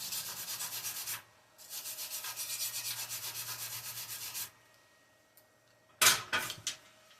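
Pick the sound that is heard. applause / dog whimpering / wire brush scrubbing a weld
wire brush scrubbing a weld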